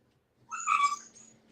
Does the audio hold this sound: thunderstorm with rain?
no